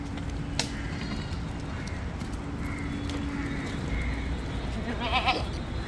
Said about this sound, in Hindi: ये और ये दो बकरे इधर हैं।